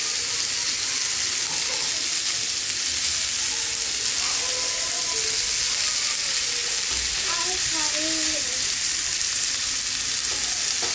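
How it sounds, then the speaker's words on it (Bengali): Radish and onions frying in a pan, with a dense, steady hiss of sizzling oil close by and occasional faint stirring, no voice over it. "সাথে পেঁয়াজটাও ভাজবো।"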